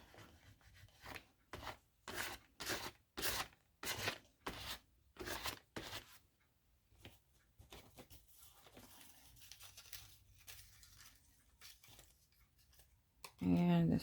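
Scissors snip around a paper sticker in fussy cutting, a close run of crisp rasping cuts at first, then quieter, sparser snips, and a voice speaks briefly at the very end.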